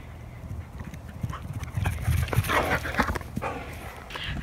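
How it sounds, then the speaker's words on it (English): A dog on a hike pants in quick, uneven bursts close by, with soft whimpers and scuffling movement rising toward the end over quiet outdoor background. "This dog is crazy."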